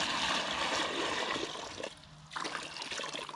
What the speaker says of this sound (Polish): lejemy wodę